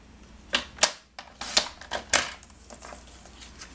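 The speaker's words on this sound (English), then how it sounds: "So we're trimming right at this score line here." Paper trimmer blade sliding through cardstock along a score line while a scalloped piece is trimmed for a paper pumpkin craft, a quick series of sharp clicks and snips, close and alone.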